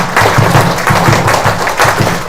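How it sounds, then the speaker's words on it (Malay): An audience at a Healthy Way product testimonial event applauds, with dense clapping that pulses in a quick, even rhythm and fills the whole short stretch. "Sekali lagi tepukan untuk Healthyway."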